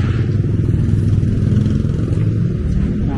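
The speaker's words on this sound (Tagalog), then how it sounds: "Puro tricycle lang paakyat sa taas." Motorized tricycles climbing a hill, a steady low engine drone with some rattling clatter, fairly loud and close, with no talking over it.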